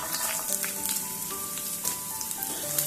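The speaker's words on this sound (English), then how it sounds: "In this we'll add a teaspoon of ginger and a tablespoon of chopped garlic" Ginger and chopped garlic frying in hot oil over a high flame, a continuous crackling sizzle with scattered pops, close and steady throughout.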